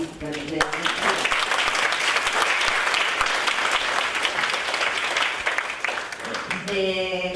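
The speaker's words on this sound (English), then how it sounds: "I will ask you to applaud all these people" Sustained audience applause fills a dinner awards and closing ceremony for a quality-of-life research society, dense steady clapping lasting several seconds, with brief speech or background voices at the start and end.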